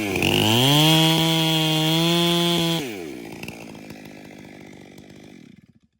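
A chainsaw cuts the trigger during a bore-cut tree felling, running loud and close at a steady high whine for about three seconds, then dropping to a rough, lower idle that sputters and fades out.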